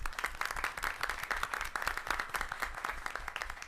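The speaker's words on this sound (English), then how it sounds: "Let's give them a round of applause, please." Audience applause at a public school board of education meeting following a student presentation, steady dense clapping from a room of people, moderately faint and continuous throughout.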